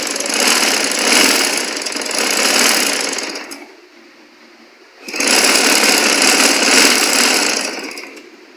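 A sewing machine stitches the flared skirt panel of a long prince-cut gown, running loud and close in two sustained bursts with a brief pause between them and no speech.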